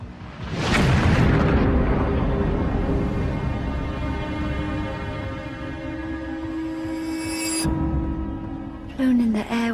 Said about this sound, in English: It isn't long before an explosion destroys Darnley's bedroom